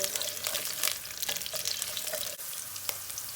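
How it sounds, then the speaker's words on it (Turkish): Oil sizzles and crackles steadily as carrots fry in a pan, with a few soft stirring scrapes and clinks, close and moderately quiet. "Şöyle bir 10-15 saniye havuçları yağda bir kızartacağım."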